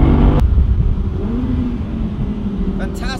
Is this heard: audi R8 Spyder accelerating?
yes